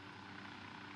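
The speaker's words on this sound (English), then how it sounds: "I was wondering why the helicopter just started falling down to the ground" A steady, droning helicopter rotor and engine rumble in the video game Ghost Recon Wildlands, even and continuous, fairly faint and without voices.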